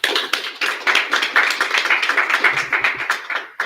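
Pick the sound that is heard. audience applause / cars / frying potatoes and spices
audience applause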